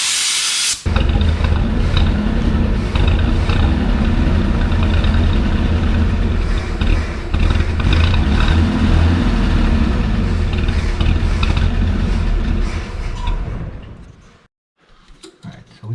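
A 1966 Ford F100 engine, run again after sitting for 30 years and unable to idle, roars steadily and loudly up close with a hissing, rough tone for about thirteen seconds before cutting out abruptly.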